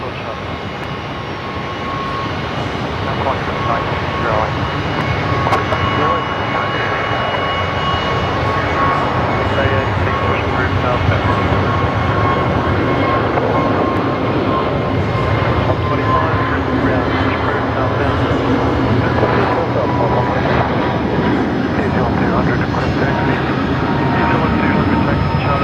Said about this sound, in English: here we do have Jetstar 964 beginning their takeoff roll